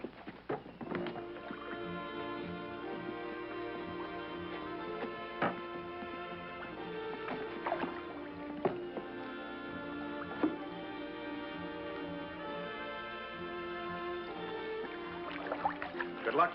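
A canoe is paddled through water in a western film scene, with soft repeated paddle splashes and strokes heard under continuous orchestral music.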